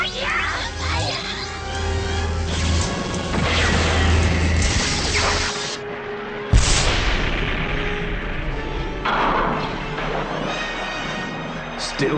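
Weapons blast and crash through a battle in the Transformers G1 cartoon, with loud, dense rapid fire and impacts, a sharp hit near the middle, and shouting voices mixed in.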